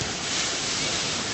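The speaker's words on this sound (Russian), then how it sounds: "Слушай, прям волны такие кайфовые." Sea waves wash and break in a continuous close roar during a seaside holiday, with wind rushing across the microphone.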